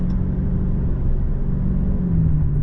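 Steady engine drone from a 2023 Dodge Charger Scat Pack Widebody cruising, a subtle whine riding over the low rumble, continuous and close inside the car with no talking.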